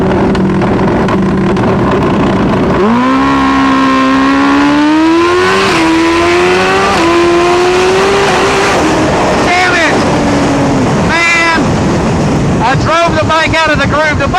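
A turbocharged Suzuki Hayabusa drag bike launches down the strip, its engine note sweeping upward through the gears, loud and close with heavy wind buffeting, and a rider's voice intermittently over the roar.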